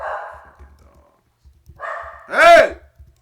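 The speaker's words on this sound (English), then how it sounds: "Fucking dogs." Dogs bark in a short burst close by, one loud harmonic yelp standing out near the end, with brief talk before and after during a Knicks versus Pacers playoff game broadcast.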